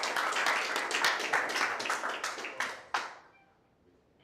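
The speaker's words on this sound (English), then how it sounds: "We'll keep your applause going for Dan Carter" An audience at a property auction claps for the auctioneer, a dense burst of applause that thins into a few scattered claps and fades out near the end.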